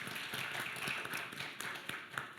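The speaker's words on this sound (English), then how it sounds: "Let's give them another welcoming hand of applause." Conference audience applauding to welcome panelists, a steady wash of claps with scattered sharper hits, fairly quiet and brief.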